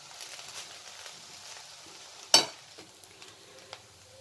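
Leftover cooked rice and onions stirred in a frying pan for fried rice: a faint, soft sizzle and scraping, broken by one sharp clank of a utensil against the pan.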